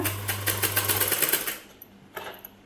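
A sewing machine runs in a fast, even rhythm while stitching piping onto a blouse, then stops and leaves a few faint clicks and taps close by.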